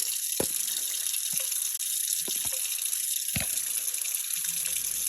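Cold water gushes steadily from a kitchen sink tap over a batch of homemade butter, a continuous close splashing broken by a few soft knocks and thumps.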